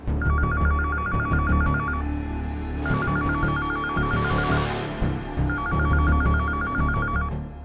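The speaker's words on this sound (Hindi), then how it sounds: "वरना भैया लैंडलाइन पे फोन नहीं करते।" An old-style landline telephone bell rings in three long trilling bursts with pauses between, over a steady low background hum and no talking.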